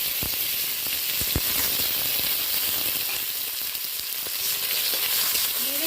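Chopped tomato, onion and slit green chillies sizzle loudly in a hot pan with tempered spices, a steady close frying hiss broken by occasional scrapes and clacks of stirring.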